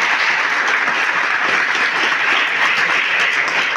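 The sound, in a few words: audience applause at a farewell ceremony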